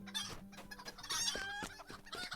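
A chicken clucks in a video game in which the player is a chicken, giving a string of short, close, choppy clucks and squawks at a moderate level.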